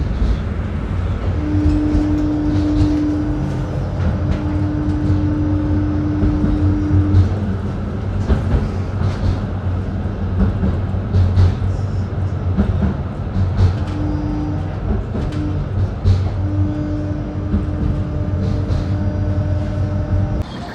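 Riding aboard a Konstal 805N tram of MPK Łódź, a steady low rumble and rolling wheel noise carry on for the whole stretch, with a sustained motor whine rising and falling at intervals and occasional clatter.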